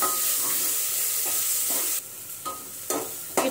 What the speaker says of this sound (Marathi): इथे आपण त्यामध्येच कोथिंबीर बारीक चिरून घेतलेली आहे, ती टाकून घेऊ आणि तीही आपण परतून घेणार आहोत